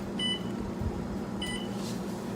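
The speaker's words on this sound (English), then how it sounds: "Okay, the timer is going off." A baking timer beeps in two short bursts of high, even electronic tones about a second apart, over a low steady hum from the oven.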